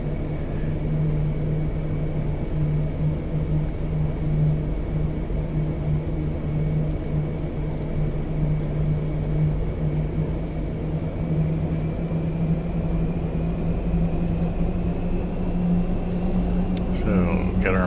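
Steady droning rumble of Lockheed C-130 turboprop engines taxiing in X-Plane 12, a continuous low hum with a faint higher whine, while someone talks over it.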